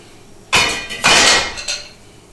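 Eggs dumped into a pan, two loud bursts of clatter and hissing spread about half a second apart with a smaller knock after, alone with no talk.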